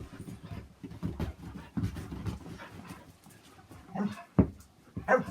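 A puppy resting in someone's lap shakes itself off amid soft panting and faint whimpers, close by and moderately loud, with a brisk rustling burst near the end.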